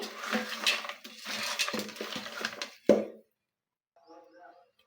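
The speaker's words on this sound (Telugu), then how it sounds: "ఇప్పుడు చికెన్ బిర్యానీ మసాలా కూడా వేసుకొని చక్కగా కలుపుకోవాలండి" Chicken biryani masala and spices being stirred in a pot: a spoon scrapes and clinks against metal through the first three seconds, with a sharp knock near the end, then brief faint clatter after a pause.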